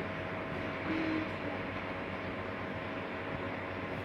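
A model funicular railway train running in a model train museum, a steady close rumbling hum with a faint tonal whine, unchanging for the whole stretch.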